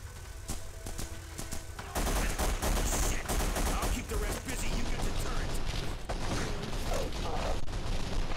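Sustained rapid gunfire from a turret in The Punisher game, a dense, loud rattle of shots under game action, with a voice speaking briefly.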